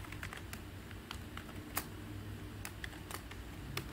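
Soft, irregular clicks of computer keyboard keys as code is typed, quiet and close, with brief pauses between bursts and no talking.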